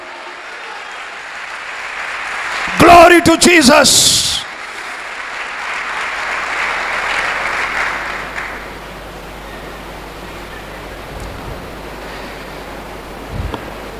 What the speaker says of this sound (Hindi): यीशु मसीह के लिए जोरदार तालियां